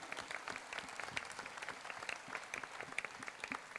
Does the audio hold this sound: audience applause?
yes